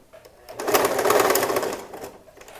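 A sewing machine stitching a seam on a dress trouser back pocket, one close burst of rapid whirring stitches that swells and fades over about a second and a half.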